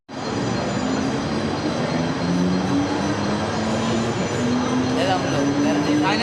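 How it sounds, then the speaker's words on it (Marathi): A train pulls into Chembur station on a Mumbai suburban line, a loud steady rumble of wheels with a drawn-out rising squeal of brakes heard close by. "आली ट्रेन आली."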